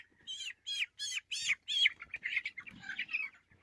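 Young broiler chicks, 25 days old, chirp and peep on a poultry farm: a run of about five loud, evenly spaced high calls, then a denser, overlapping chatter of cheeps, close and with no talking.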